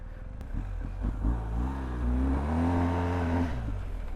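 A BMW R1250GS motorcycle revs hard while power sliding on gravel, the engine rising and holding a throaty, fairly close drone for a few seconds before easing off.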